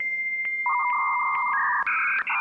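Dial-up internet modem handshake: a steady tone with periodic chirps, then a run of shifting two-tone beeps and warbles rising in pitch, loud and close with no talking.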